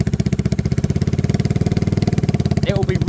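A motorcycle engine idling with a baffle stuffed into the exhaust, giving a steady, rapid low thumping pulse close by; a faint voice comes in near the end.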